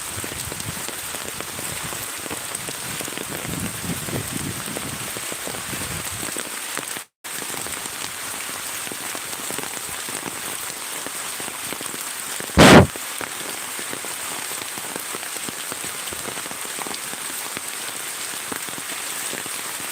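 Steady heavy monsoon-style flood rain pours down for the whole stretch, a dense continuous hiss of drops on surfaces, with one brief dropout and a sharp click near the end.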